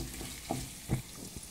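Onions frying in a pan for bitter gourd fry, a soft sizzle with a few light stirring knocks from a spoon.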